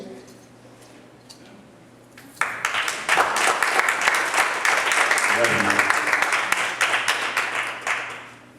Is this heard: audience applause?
yes